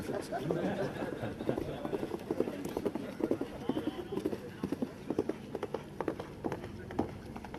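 Horse hooves clip-clop in a steady, rapid rhythm, fairly close, during a polo derby event at La Baule, with crowd chatter and murmuring underneath.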